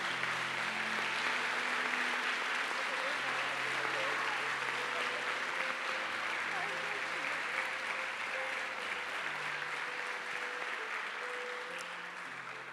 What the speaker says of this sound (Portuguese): E você pode aplaudir o nome de Jesus por essa palavra?